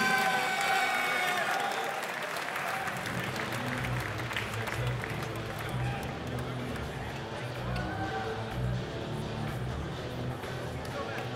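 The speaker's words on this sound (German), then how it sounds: "Hier Applaus bitte für Kevin Hansson und Robert Dimitrios" Spectators at an MMA event applaud as two fighters are introduced into the cage, a continuous crowd clapping mixed with murmuring and a thumping low beat, while an announcer's voice runs over it.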